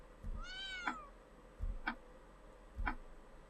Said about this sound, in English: Right. You're just a cat.